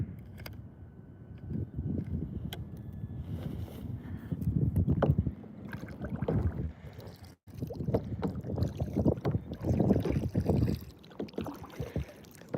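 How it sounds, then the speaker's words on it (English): Wind gusts across a lake around a fishing boat, a steady rough rumble with buffeting on the microphone that continues without a break and dips only briefly. "Got a little bit of wind."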